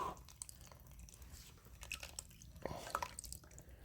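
Water dripping and squelching as watery sludge is dumped out of an engine that will not drain, faint wet drips and squishy splats against a quiet, hissy background.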